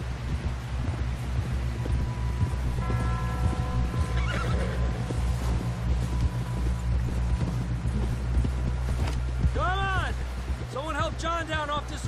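Horse galloping and neighing in the Red Dead Redemption 2 video game, a steady loud ride with hoofbeats under game music and speech, ending in a couple of whinnies near the end.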